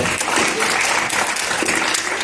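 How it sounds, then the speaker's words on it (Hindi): A large crowd of students in an auditorium at a coaching school launch event claps loudly and continuously, a thick wash of applause with faint voices mixed into it. "जोरदार तालियां भाई"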